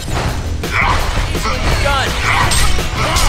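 Dog barks from the Heroes of Newerth video game, several short yelps in quick succession over steady in-game combat noise and crashing effects, with a voice present.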